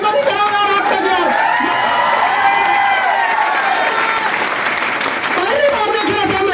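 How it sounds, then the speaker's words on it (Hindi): An audience at a speech applauds and cheers loudly and continuously, dense clapping with shouting voices filling the whole stretch. "एक बार ताली बजाओ"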